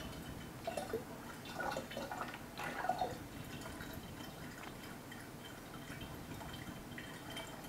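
Liquid plant nutrient trickles and drips into a jug for an anthurium feeding solution, a few faint close splashes early on, then quieter liquid noise.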